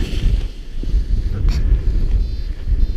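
Wind gusting across a paraglider launch site, a loud, steady low roar and buffeting against the microphone throughout, with no talk.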